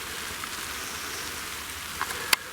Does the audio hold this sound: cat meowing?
no